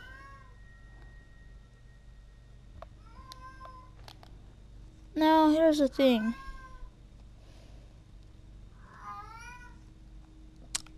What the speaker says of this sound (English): Okay, my cat is crying.